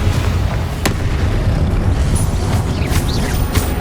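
A sustained, roaring fiery blast from a Confringo spell in the Hogwarts Legacy video game during a giant soldier boss fight, dense and loud with crackling bursts throughout.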